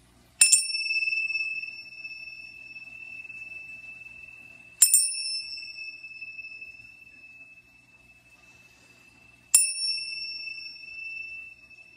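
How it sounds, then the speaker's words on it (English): Tibetan bells struck three times at even intervals, each a bright, clear ring that sustains and fades slowly in a quiet room. "This kind of clears the space right before I do a reading, the sound energy. These are the Tibetan bells."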